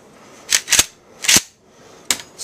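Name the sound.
shotgun dry fire click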